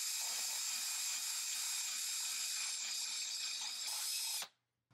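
A handheld power drill whines steadily at high pitch while boring a shop-made dust collector blast gate mounting bracket, then stops abruptly near the end.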